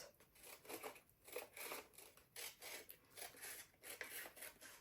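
Scissors snip through paper in a series of short, crisp cuts with a steady rhythm, close by and fairly quiet, with no talking.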